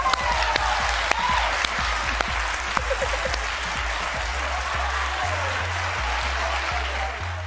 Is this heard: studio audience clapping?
yes